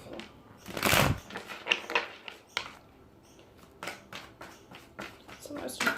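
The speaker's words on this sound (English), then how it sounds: "Okay, last shuffle." Tarot cards shuffled close by in short riffling bursts, the loudest near the start, followed by lighter intermittent card sounds while a voice speaks softly.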